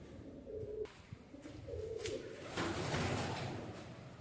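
Pigeons coo repeatedly inside an abandoned cinema hall, soft low calls in a loose rhythm over a dull roomy background, close and moderately quiet.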